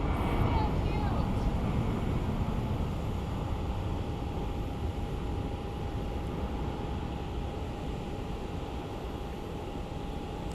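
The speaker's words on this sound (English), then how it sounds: "It's an Airbus A319." An Airbus A319 airliner at Phoenix Sky Harbor airport makes a steady, broad engine rumble that holds constant throughout, with indistinct voices mixed in.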